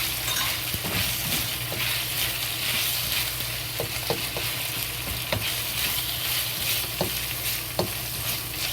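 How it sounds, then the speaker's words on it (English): Chili sauce frying slowly in oil for salted fried pork slices, a steady close sizzle with soft bubbling and intermittent light scraping and stirring ticks, no voices. "Slowly fry this chili sauce and until the red color go to the oil."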